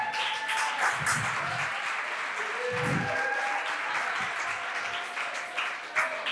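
A school competition audience applauds students entering the hall: a continuous wash of crowd clapping mixed with murmurs and low crowd noise, steady in level and with a few faint tonal hums running beneath.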